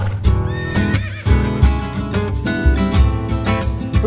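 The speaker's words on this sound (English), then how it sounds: "Who needs a 4x4 when you got a horse?" Horses carrying riders and ski gear up a volcano whinny loudly and clip-clop close by, with several neighs rising over the steady hoof beats.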